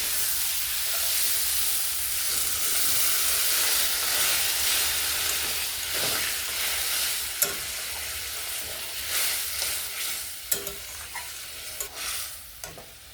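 Rajma kidney beans frying with masala in a pan make a steady close sizzle, with scraping stirs and brief clinks toward the end, and no voices.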